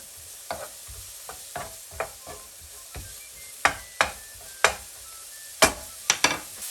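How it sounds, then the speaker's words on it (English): A steady sizzle of zucchini frying with salt in a pan over medium heat, with repeated scraping and clacking of a utensil stirring at irregular intervals, close up, no talking. "So we'll fry the zucchini on the medium heat about 5 minutes."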